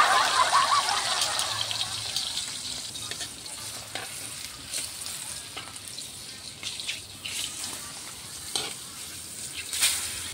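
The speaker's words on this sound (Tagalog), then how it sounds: "Ang flying fish na pinarito." Flying fish frying in hot oil gives a dense, steady sizzle that runs close and fairly loud for the whole stretch, with scattered crackles and pops and one sharper spatter near the end.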